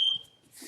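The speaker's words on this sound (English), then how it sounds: "Let me get my trusty old timer." A kitchen-style timer gives a sharp, loud electronic beep at the start, ringing briefly before fading into quiet room noise, with faint movement sounds afterward.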